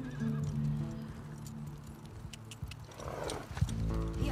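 In The Last of Us Part 2, a horse named Shimmer gives a whinny and snorts while hooves clip-clop, all at a moderate level with no talking.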